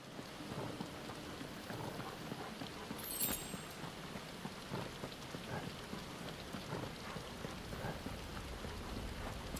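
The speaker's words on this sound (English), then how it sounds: "And a fight in the rain." Steady rain pours during a boss fight in Final Fantasy XVI, a constant hiss of drops on surfaces with a brief rumble of thunder early on, no voices over it.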